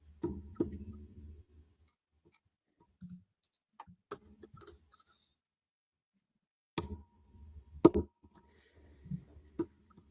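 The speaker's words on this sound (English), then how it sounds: "There's a clicking sound on a microphone." AirPods fidgeted near a microphone give sparse, faint clicks and small taps, scattered irregularly with long quiet gaps and a few sharper knocks near the end.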